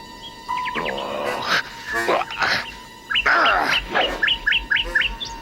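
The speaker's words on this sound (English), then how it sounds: "Shut up, you rotten bird." A bird chirps in an animated film, repeated quick rising tweets and rough squawks near and loud, mixed with busy animated sound effects and other noises.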